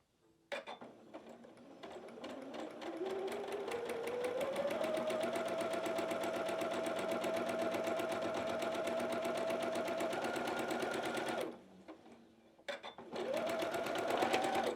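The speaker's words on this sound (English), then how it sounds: "And then I'm going to sew this one," Sewing machine stitching quilt pieces for a quilted snowman block, a steady close motor hum with rapid needle clatter, running continuously for about eleven seconds, pausing briefly, then starting up again.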